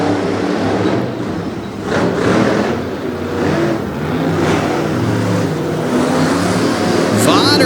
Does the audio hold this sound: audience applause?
no